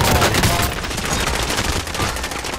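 Gunfire in the battle royale game Call of Duty Warzone, a loud continuous fusillade of rapid automatic shots at close range, sustained throughout without voices.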